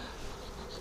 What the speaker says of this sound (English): bees are slowly going in, but not very slowly on this side of the hive